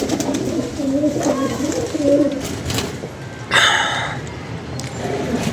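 Pigeons cooing at close range, several soft rolling coo phrases early on, then a sharper burst of bird noise with faint background voices.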